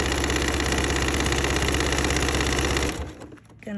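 Steady, loud whir of a sewing machine running a small zigzag stitch along a quilted hanging organizer, buzzing continuously close up before stopping abruptly near the end.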